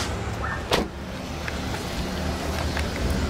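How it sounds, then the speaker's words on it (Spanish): A car is moved outside a band rehearsal space: a steady engine and road rumble with a brief sharp click or clunk near the start and a few small knocks, no talking. "Nada más estoy moviendo el carro"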